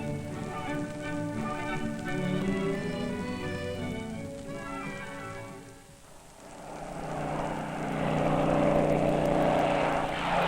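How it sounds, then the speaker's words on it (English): A British propeller plane drones through a steady hum that swells louder toward the end over a sailing ship at sea by moonlight, with wind and water wash mixed underneath. "a British aircraft which has flown out to inspect us"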